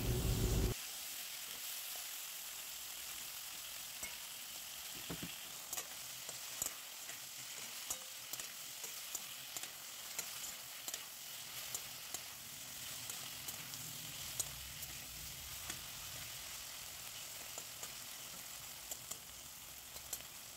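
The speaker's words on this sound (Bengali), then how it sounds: "এবার টমেটো আর ক্যাপসিকাম গুলো হালকা একটু ভেজে নেওয়া হবে।" Chopped capsicum and tomato with salt fry in a pan, producing a steady close sizzle and hiss with light clicks of stirring scattered throughout.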